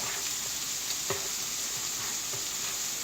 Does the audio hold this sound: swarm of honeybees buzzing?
no